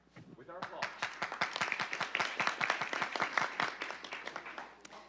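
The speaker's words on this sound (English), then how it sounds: "With our applause." A crowd claps steadily for several seconds at an international review meeting on the disability rights convention, dense overlapping hand claps at moderate volume, fairly close.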